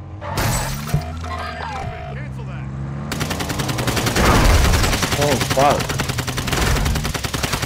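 Heavy automatic gunfire from Call of Duty DMZ, a loud sustained burst of rapid shots that fills the second half, preceded by quieter game sounds and a single sharp shot.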